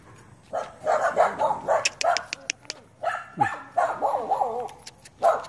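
Stray dogs bark and yip in a quick, uneven series of sharp calls, close by, with a few whimpering notes between them.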